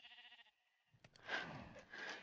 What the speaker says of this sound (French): il y a eu un bruit de chèvre